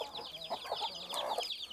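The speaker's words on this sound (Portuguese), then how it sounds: "São todos os pintinhos nascidos." Newly hatched chicks on a farm cheep constantly, a dense chorus of high, rapid peeps close by, with a few lower clucks from a hen mixed in.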